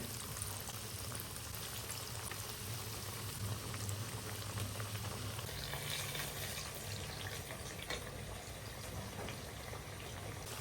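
A potato snack fries in hot oil as fries, bubbling and sizzling in a steady, even hiss close by with no voices.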